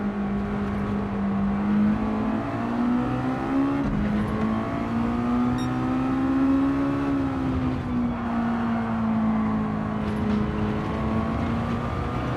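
A Mazda Roadster touring car in Gran Turismo 7 holds a steady, close engine drone, its pitch rising and falling gently as it revs through corners. The sound is constant with no talking.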